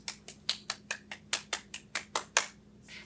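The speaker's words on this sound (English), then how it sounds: "Give yourselves a robot round of applause." Children give an even, rhythmic round of unison claps in a classroom, about a dozen crisp claps close by, with no talk.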